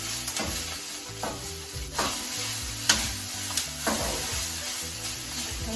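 Cooked lentils are stirred with onions, peppers and taco seasoning in a hot pan, a continuous sizzle of frying under repeated soft scraping strokes of a utensil, with a few louder knocks.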